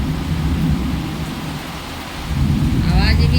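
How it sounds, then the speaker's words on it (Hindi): Loud, steady downpour with low thunder rumbling beneath it, dipping slightly then surging again toward the end. "बहुत तेज बारिश हो रहा है गाइस"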